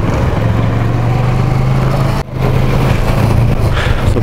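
A group of about ten Kawasaki Versys motorcycles rides together on the road, giving a loud, steady engine drone with a brief dip midway before the drone resumes.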